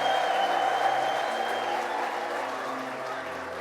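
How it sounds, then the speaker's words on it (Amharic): A church congregation breaks into sustained applause and high trilling ululation in praise, a dense crowd wash with a bright wavering tone riding over it and faint voices underneath. "እልልታ ለዚህ ጌታ እልልታ፣ ጭብጨባ"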